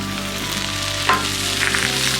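Steady sizzling of buttered bread frying on a hot Blackstone griddle, a continuous crackling hiss with a brief clatter midway, no voices.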